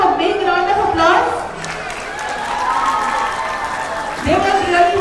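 Audience applause and crowd noise fill a stage celebration hall, a steady continuous wash of clapping with voices and chatter layered through it, loud and close throughout.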